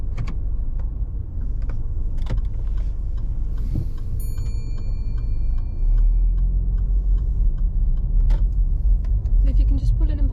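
A car pulling away during a driving test, heard from inside the car with a steady engine rumble that rises as it moves off, an indicator ticking and soft intermittent clicks.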